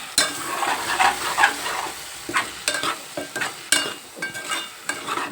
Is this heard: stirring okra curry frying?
yes